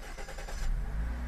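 Car engine catches and starts after a struggling, hard start blamed on a weak battery: a brief cranking stutter gives way to a low, steady idle rumble, close by and alone.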